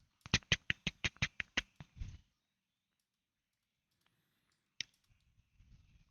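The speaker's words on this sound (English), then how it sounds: "Typing." Typing on a computer keyboard, a quick run of about ten crisp keystrokes in a steady rhythm, followed by silence and a single later click.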